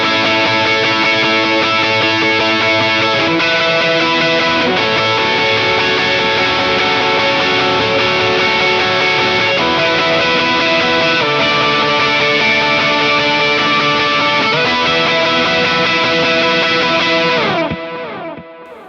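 An electric guitar plays the chords of a song loud and distorted, a dense wall of sustained, overdriven chord changes that rings on and then fades out at the end, with no talk.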